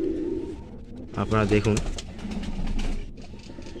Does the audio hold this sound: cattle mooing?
no